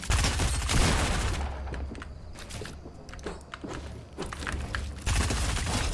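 In a shooter video game, bursts of rapid gunfire crackle loud and close, thin out in the middle into scattered shots and footsteps, then return as a dense volley.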